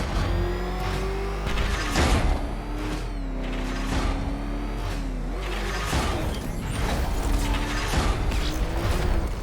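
A heavy mechanism in Batman: Arkham Knight grinds and creaks as it is cranked up, with a steady low mechanical drone, ratcheting clanks and rising whining tones over nearly ten seconds, loud and close.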